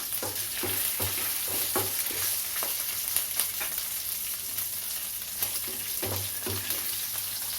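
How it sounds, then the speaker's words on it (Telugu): Curry leaves and cashews fry lightly in oil, giving a constant soft sizzle up close, punctuated by rhythmic spoon taps and stirring scrapes against the pan, with a low hum underneath. "కరివేపాకు, జీడిపప్పు ముందుగా వేయించుకోవాలన్నాను నేను, అందుకే లైట్గా వేస్తున్నాను."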